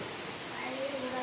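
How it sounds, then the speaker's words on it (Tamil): Heavy rain falls steadily as a dense, even hiss across the whole short stretch, fairly loud and close, with no clear voice on top. "பாருங்க எப்படி சரியான மழை பெய்யுது."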